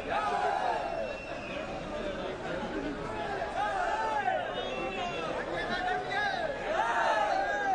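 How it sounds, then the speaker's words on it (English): A crowd of fans gathered outside actor Ambarish's residence in JP Nagar chanting and cheering his name, rising and falling voices in rhythmic waves, moderately distant and continuous. "Fans cheering Ambarish's name. That is what you can hear."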